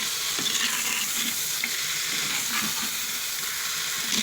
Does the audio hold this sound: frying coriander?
yes